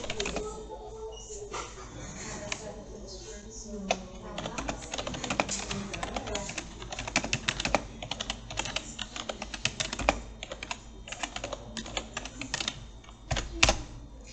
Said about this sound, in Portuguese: Eu vou digitar aqui